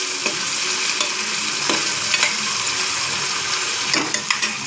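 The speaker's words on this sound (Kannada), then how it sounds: "ಟೊಮೆಟೊ ಹಾಕ್ಕೋಬೇಕು. ಅದನ್ನೆಲ್ಲ ಹಾಕ್ಕೊಂಡು ಈ ಥರ ಚೆನ್ನಾಗಿ ಸ್ವಲ್ಪ ಫ್ರೈ ಮಾಡಿ" Chopped tomatoes sizzling in a hot pan, a steady bright frying hiss broken by occasional scrapes and clicks of a spoon stirring them, close and without speech.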